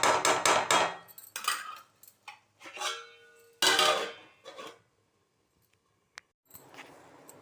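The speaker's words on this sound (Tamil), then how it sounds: "இது திரும்ப தட்டை கிளறி விட்டு திரும்ப தட்டை போட்டு மூடி வச்சிடலாம்." A plate is set down as a lid over a pot of pacharisi upma, making sharp metallic clatters and clinks in quick bursts, then a single tap after a pause, with no talk.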